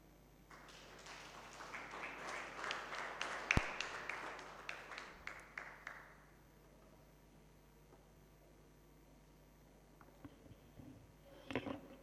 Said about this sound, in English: A round of applause for Dr. Jesse as he finishes this session.